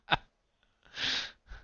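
A single sneeze from a person sitting and chatting about tabletop hobby games, with a sharp intake burst followed by a louder breathy expulsion and a brief trailing sniff, heard close and alone.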